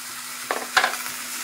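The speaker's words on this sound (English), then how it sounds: "this is how we're gonna quickly saute it" Carrots, cauliflower, onion and tomato sautéing in a pan over heat, with a low steady sizzle and a couple of soft stirring scrapes and clatters partway through.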